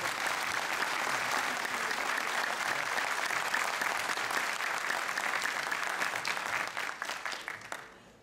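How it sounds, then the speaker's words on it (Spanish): Sustained, loud applause from an audience at a DXN business event in Latin America, dense clapping holding steady for about seven seconds before thinning out at the end. "les pido un fuertísimo aplauso al señor Guillermo Swift."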